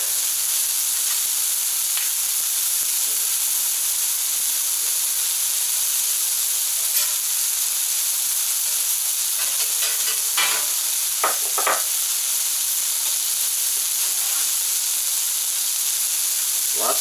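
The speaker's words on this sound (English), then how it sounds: "Go ahead and put some butter down for the onions." Butter and onions sizzling on a Camp Chef FTG600 flat top grill outdoors in -23F cold, a steady bright hiss throughout with a few scraping stirs and clicks near the middle, no voices.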